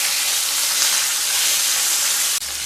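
Steady, dense sizzling of flipped koi fish frying in mustard oil, continuous and close, with a sudden drop in level near the end as something shifts in the pan, no one speaking.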